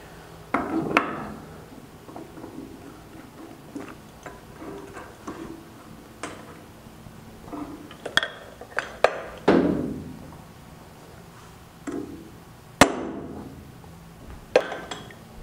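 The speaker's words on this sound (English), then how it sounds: "we'll just thread that in about an inch deep, break it off, and then take it right back out." A 3/8 inch tap being threaded about an inch into metal and then snapped off, heard as scattered metallic ticks, clinks and sharp knocks, quiet and close, with no talk.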